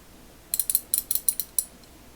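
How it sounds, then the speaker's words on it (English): A Stanley 85-483 round head ratchet with a thumb wheel and knurled handle clicks about ten times in a quick, uneven run, crisp and close, with nothing else in the background. "It's a round head ratchet."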